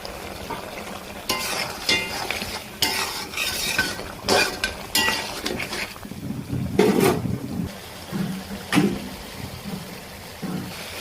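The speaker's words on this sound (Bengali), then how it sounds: "এটাকে ভালো করে কষিয়ে নেব।" A spatula scrapes and stirs chicken curry with home-ground spices in a pan with repeated scraping strokes over a faint sizzle.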